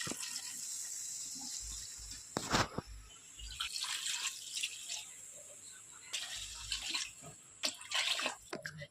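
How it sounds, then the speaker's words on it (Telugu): Water poured into a pot for cooking basmati rice, a few separate splashing pours in bursts, with quieter gaps between them. "సో ఈ గ్లాస్తో 4 గ్లాస్ వాటర్ వేసుకోవాలి."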